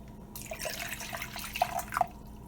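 Liquid poured into a container up to a fill line for hemp milk, a soft steady trickle with a few small drips and splashes, fairly quiet and close.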